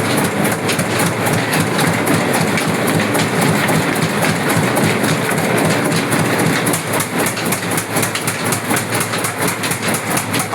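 A 1940s Blackstone engine running at a coffee factory, a loud, steady rhythmic chugging with rapid regular beats and a dense mechanical clatter from belt-driven machinery, close and continuous, with no talking.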